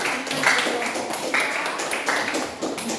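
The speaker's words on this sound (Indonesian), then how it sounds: "kita tepuk tangan untuk kelompok 2 yang telah menjawab" Classroom applause for group 2 of students, a steady wash of many hands clapping at moderate loudness with some voices mixed in, continuing through the moment.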